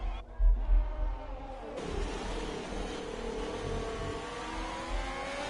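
Open-wheel F2 race car engine in an online racing league held at full throttle, a close, sustained high-pitched drone that rises after a brief dip.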